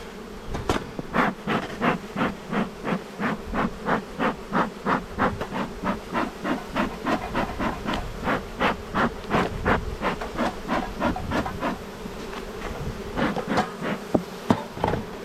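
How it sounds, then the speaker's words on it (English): Dense, continuous buzzing of many honey bees close by at a hive, with a pulsing, rhythmic texture and no voices. "there's a massive amount of bees underneath it"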